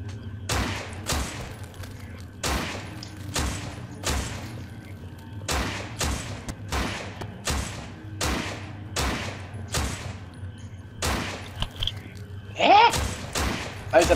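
Repeated gunfire in the zombie shooter No More Room in Hell, a steady run of sharp single shots at roughly one-second intervals, fairly close, with a denser burst near the end and a low background hum.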